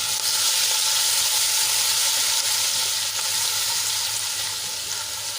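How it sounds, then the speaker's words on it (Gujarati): Garlic and chili paste with a pinch of asafoetida sautéing in hot oil in a pan, giving a steady, loud, close sizzle that runs unbroken through the whole stretch with no voices. "અને તેલમાં આપણે એને સરસ રીતે સાંતળી લઈશું।"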